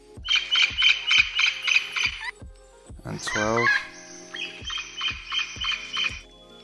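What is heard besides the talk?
bird sounds in ambience clips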